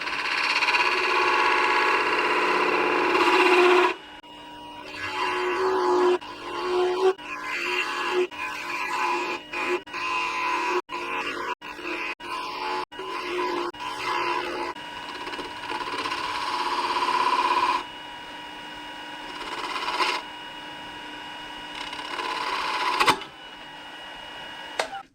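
Wood lathe turning a small ornament while a smaller gouge cuts the spinning piece, a steady whirring hum broken by repeated short pauses and sharp scraping cuts, stopping and restarting across the stretch.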